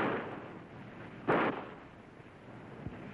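A line-throwing gun aboard the USS Vega fires a single sharp shot line, one loud burst standing out from steady shipboard background noise, followed later by a fainter thump.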